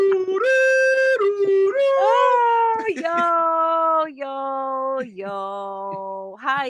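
A dog named Apollo, just woken up, lets out close, loud, wavering howls that slide up and down in pitch and break into whimpering cries, carrying on almost without pause for several seconds.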